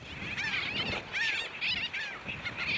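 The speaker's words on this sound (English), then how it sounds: "The skies are full of seabirds from one of the most important seabird colonies in the Caribbean." Seabirds call over a large breeding colony off Anguilla, including sooty terns, in a dense overlapping chorus of harsh, honking cries that rise and fall continuously, fairly close and with no talk.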